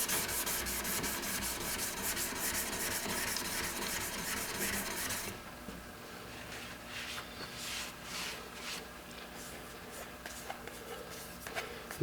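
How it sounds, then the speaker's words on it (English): A steel card scraper rubs back and forth across a 1200 grit sharpening stone, giving a steady gritty scraping that is louder at first, then softer, lighter strokes, close by with no talking. "I'm going to take my scraper and go back across the stone on both surfaces."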